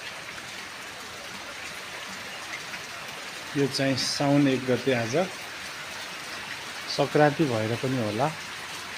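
Rain falls steadily over a village during the monsoon, a constant soft hiss throughout, with a person talking over it in the second half.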